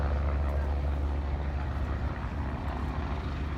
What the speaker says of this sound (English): Reaching a few miles out are 4 North American Texan aircraft